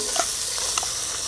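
Washed biryani rice frying in hot ghee while being stirred, a bright steady sizzle with a couple of quick spoon scrapes, close and alone.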